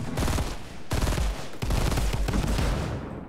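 Rapid gunfire in the video game Fortnite rattles out in three loud bursts separated by short pauses, each a dense run of sharp shots.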